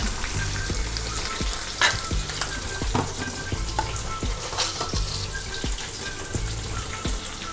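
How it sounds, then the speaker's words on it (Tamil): Onions and sliced eggplant sauté in a pan for a Karnataka-style eggplant biryani, with a steady sizzle, frequent scraping and stirring clicks, and a brief watery swish partway through. "நல்ல வெங்காயம் வதங்கட்டும்"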